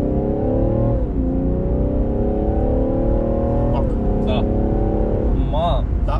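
A BMW 640d xDrive diesel rated at 313 hp roars loudly while accelerating hard in sport mode, its engine note rising through several gear steps, with brief talk in the car over it.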